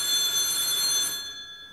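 An old wired landline telephone rings at home, a single loud electronic ring lasting about a second before it cuts off and fades away.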